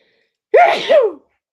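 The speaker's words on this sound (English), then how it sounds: "I'm going to sneeze" A single loud, close sneeze, a sharp two-part burst that ends abruptly, surrounded by silence.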